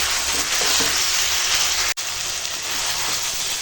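Chicken pieces being sautéed bhuna-style in oil for masala chicken with potatoes, giving a steady, dense sizzle with faint stirring scrapes, near and continuous, broken by one brief dropout midway.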